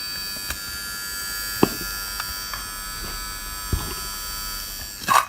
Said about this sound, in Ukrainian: поки паяльник гріється на апроксимованій синусоїді, можна послухати його звук